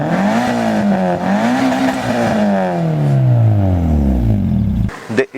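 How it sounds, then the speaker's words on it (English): A 1979 Mazda 323 engine revs up and down several times, its pitch rising and falling in loud, close sweeps before it winds down and cuts off near the end. "Now we cannot do a review of this kind of a car without taking a listen to how it sounds"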